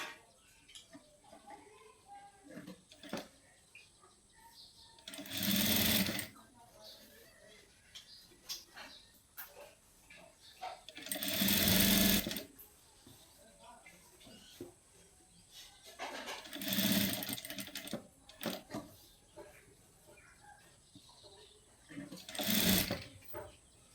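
A sewing machine stitches a blouse in four loud bursts of rapid running, separated by quieter pauses filled with handling noises and a voice talking.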